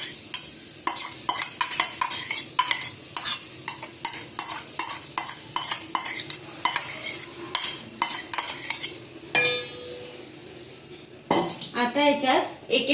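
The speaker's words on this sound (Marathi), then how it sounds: "या भांड्यात आपण हे मगाशी भिजवलेले पोहे टाकूयात" Soaked poha is scraped into a bowl with a spoon in repeated quick metallic clinks and scrapes, loud and close, followed by a short pause and more stirring.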